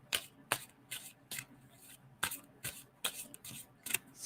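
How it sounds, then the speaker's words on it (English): A deck of tarot cards is shuffled close by, sharp papery riffles repeating at an uneven pace with short quiet gaps between, no voices over them. "tell me when to stop shuffling"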